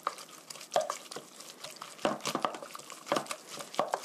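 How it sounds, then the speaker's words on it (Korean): Egg being stirred with salt in a bowl for hamburg steak, soft, irregular clicking and scraping strokes, quiet and close, with no talking. "소금과 계란이 잘 섞이게 해주시고요"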